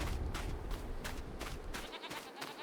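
Goats bleat in Farming Simulator 25, several short bleats at moderate distance over a steady farm background, with no talk.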